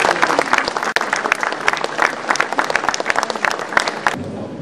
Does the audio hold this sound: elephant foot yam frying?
no